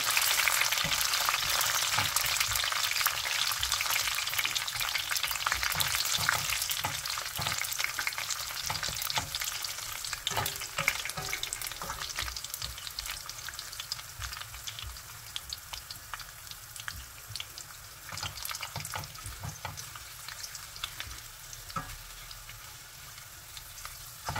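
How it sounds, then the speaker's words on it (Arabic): Hot oil sizzles and crackles steadily as chard fries, dense popping spatters throughout, gradually easing slightly, with no talking. "لهنا كي تسمعوا الحس نتاع الزيت"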